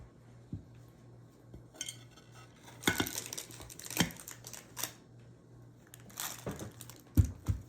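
Baked turkey pepperoni pizza monkey bread being flipped out of its pan, a close series of scattered clanks, knocks and crunchy rustles ending in a sharp metallic thud, no talk.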